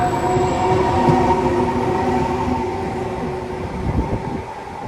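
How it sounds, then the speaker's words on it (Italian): A Trenitalia high-speed train rumbles steadily as it arrives at a platform at Venezia Mestre station, with a droning engine hum and rolling wheel noise, fading slightly as it moves along. "Il treno alta velocità Rossa 97-43 di Trenitalia delle ore 18:30 proveniente da Torino Portanova e in arrivo al binario 5."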